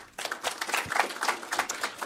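Brief burst of audience applause welcoming a panelist, the acting director general of the Swedish Migration Agency, onto a conference stage; many hands clap in a dense, steady patter for about two seconds.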